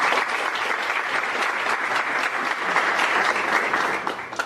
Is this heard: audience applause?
yes